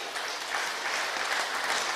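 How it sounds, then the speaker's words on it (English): An audience at a Rotary Club seminar gives a round of applause, a brief steady burst of clapping from many hands. "Let's give a round of applause to Vani"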